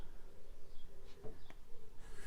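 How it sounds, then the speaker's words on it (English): Birds sing outdoors near conifers while pigeons coo softly, with a few brief chirps and calls scattered over steady low background noise. "So the birds are singing."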